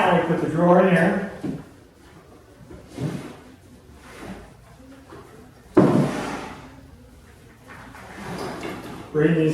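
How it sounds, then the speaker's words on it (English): A wooden drawer is slid into a wardrobe cabinet during assembly, giving a few sharp knocks and scraping thuds spread across the stretch, with a person talking between them. "now we put the drawer in here."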